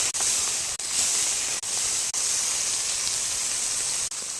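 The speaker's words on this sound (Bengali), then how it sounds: "মাছ ভাজা হচ্ছে" Bata fish frying in hot oil in a pan produce a steady, even hissing sizzle broken by a few abrupt momentary cuts, with no talking.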